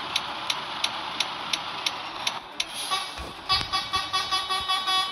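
A truck horn honks in Truck Simulator while the vehicle pulls up to a gate. A steady, regular ticking runs first, then a quick series of short honks follows near the end.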